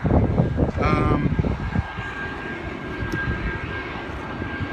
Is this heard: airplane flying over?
yes